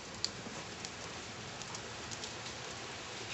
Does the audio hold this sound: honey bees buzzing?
no